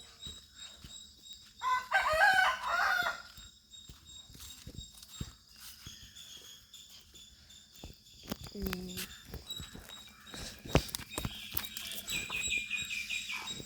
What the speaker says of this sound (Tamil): அப்புறம் அங்கே கோழி நிற்கிது, அதையும் நான் போய் காமிக்கிறேன்